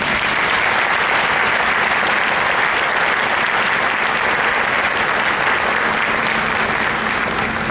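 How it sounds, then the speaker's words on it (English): Dense, steady applause from a concert audience at a music performance, loud and continuous throughout with no gaps, filling the room evenly. "give them another round of applause"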